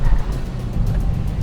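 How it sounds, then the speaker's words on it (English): A Ford Focus ST under hard acceleration on a race track, its engine droning loud and close with a brief wheel-spin edge to the low rumble. "You can hear that there's a little bit of wheel spin going on."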